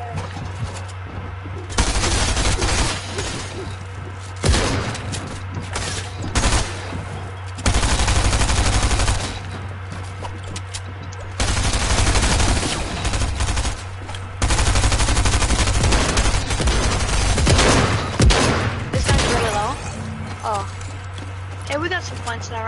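Heavy shotgun blasts in a Fortnite arena duos match, several loud bursts of gunfire interspersed with running and action noise, with people talking over much of the fighting.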